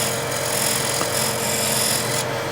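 A small skew chisel cutting wood on a lathe, a continuous close, loud, hissing, scraping rasp over the spinning lathe's hum, steady with no voices.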